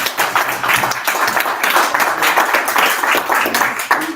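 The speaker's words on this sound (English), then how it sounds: "give them another round of applause." A business-panel audience gives the expert panel another round of clapping. Moderate, continuous applause from a smallish crowd fills the few seconds, fairly close and even throughout.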